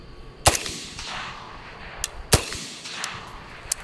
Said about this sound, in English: I'm going to do a couple more rounds